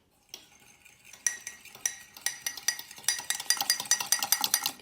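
A utensil stirs vanilla extract into a sweet milk and butter mixture in a bowl, with soft scraping that builds into quick, bright clinking against the sides, close and fairly quiet.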